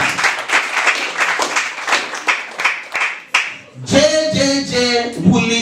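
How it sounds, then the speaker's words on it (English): Clapping breaks out at a quiz competition, a run of sharp, fairly close hand claps at an uneven pace, then voices and a brief musical or sung passage take over. "A round of applause, Akan."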